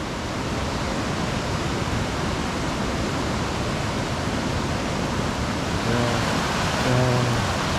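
A mountain valley stream in Gucheondong on Deogyusan pours with a steady, dense rush of water, close and continuous, and a faint voice briefly surfaces near the end.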